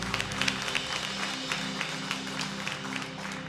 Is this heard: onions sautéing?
no